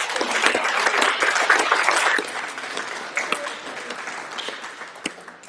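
Audience applause at an awards ceremony for alumni, a dense burst of clapping from a crowd that is loudest for the first two seconds, then thins and fades into scattered claps.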